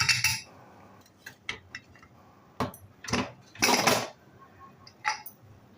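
A pressure cooker lid being opened after cooking chicken masala, a quiet series of sharp metallic clinks and clatters with brief pauses between them.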